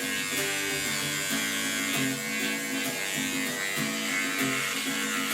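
An electric trimmer cuts through a long, thick beard with a close, steady buzz that rises and falls slightly in regular strokes as it moves against the grain.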